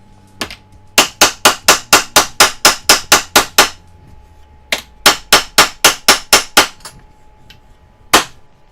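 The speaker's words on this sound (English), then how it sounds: "Is that tapping really loud for you?" A hammer taps a silverware piece to bend it, striking sharp metallic blows in quick, even bursts: a run of about eleven, a pause, another eight or so, then one last strike. The blows are close and loud.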